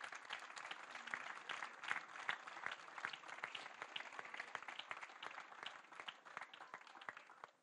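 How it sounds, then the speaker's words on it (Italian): Sustained applause from an outdoor audience gathered in a garden at a summer university event, a dense, steady patter of many hands at moderate distance with no speech over it. "vi prego di ricordare con un grande affettuoso applauso"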